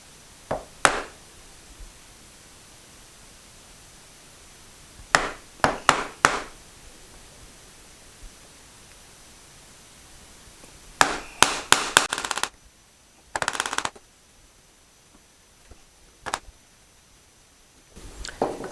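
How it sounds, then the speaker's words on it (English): A chisel is struck into wood while cutting dovetails: sharp mallet blows come in small bursts of two to five hits, separated by quiet pauses. "And then in the line, leaning the chisel forward."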